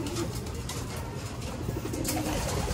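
Pigeons coo softly in a loft, a low, steady murmur of several birds heard close up, with faint rustling and no talk.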